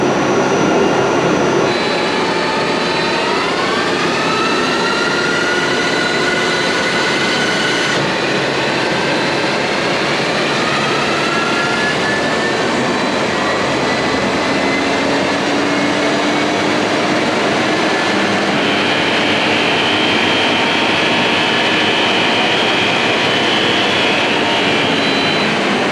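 A transmission dyno at the M&M Transmissions shop runs loud and continuous, a dense mechanical roar with rising and falling whining tones as speed shifts, filling the room throughout.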